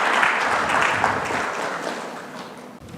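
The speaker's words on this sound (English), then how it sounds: "Can we have a huge round of applause for both of them," Audience applause at an HR summit in Mumbai, a dense wash of clapping from a large crowd that starts strong and slowly tapers off over a few seconds.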